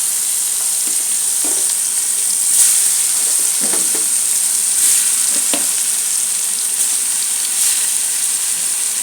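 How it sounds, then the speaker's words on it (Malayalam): Food frying in boiling oil, a continuous close hiss and crackle of sizzling with a few soft stirring or spatula knocks, steady level with no voices. "ചൂടുണ്ട്, തിളച്ച എണ്ണയാണ്"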